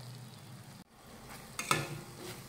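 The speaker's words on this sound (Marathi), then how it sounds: "तर हे मसाले साधारण 4 ते 5 मिनिटं व्यवस्थित परतून घेऊयात।" Coriander powder, chilli powder and garam masala sauté in a pan as they are stirred, making a soft sizzle with a sharper scrape and clink near the end.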